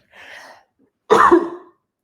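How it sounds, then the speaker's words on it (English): A soft throaty breath is followed by a single loud, sharp cough close by, then silence. "You made me cough"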